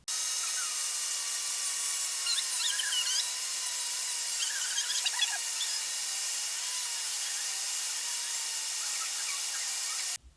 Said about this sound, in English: grab our Dremel tool and sort of clearance out this back cavity